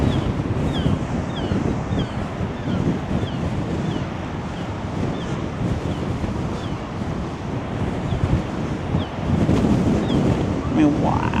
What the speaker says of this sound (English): Check that wave out. Just crushing up against the seawall.